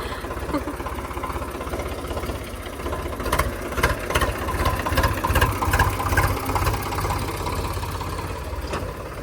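A tractor engine heading out for sowing chugs steadily nearby, a low rhythmic mechanical thrum that holds constant throughout with slight surges in loudness.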